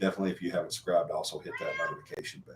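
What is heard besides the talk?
cat meowing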